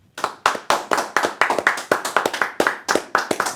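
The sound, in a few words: audience applause welcoming a guest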